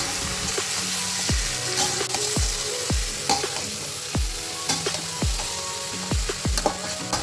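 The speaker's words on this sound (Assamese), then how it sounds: "এতিয়া মই কেৰাহীত পাচলিখিনি অলপ সময়হে ভাজিম।" Vegetables sizzle and fry in a wok, with repeated scraping stirs at a steady rhythm over a constant crackling hiss.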